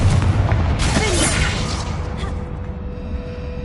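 A Confringo fire spell explodes in Hogwarts Legacy as one loud booming blast with a whoosh, followed by a long rumbling tail that slowly fades.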